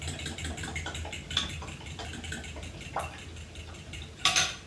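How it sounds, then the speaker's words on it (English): Oil being stirred into cornbread batter in a bowl, giving soft wet swishing with light clinks of the utensil against the bowl and a louder clatter near the end, close and quiet. "And the oil. There we go. Give it a nice stir."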